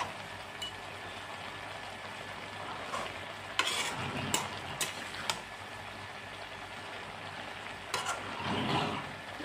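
Mixed vegetable curry being stirred in a pan with a little added water: repeated close scraping and turning strokes over a soft, steady simmer, with a few sharper clatters of the spoon against the pan and no voices.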